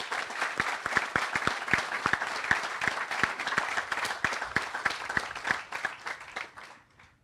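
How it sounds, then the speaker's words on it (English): An audience at an outdoor building dedication ceremony claps steadily, with individual sharp hand claps standing out close by amid the crowd, tapering off at the end. "Let's give them all a round of applause."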